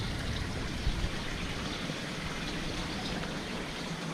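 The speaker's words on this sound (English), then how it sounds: "Just let all the water drop out down there" Water pours out of a koi pond pipe after a valve union is undone, a steady broadband rushing flow that stays at even loudness throughout, close by, with no voices.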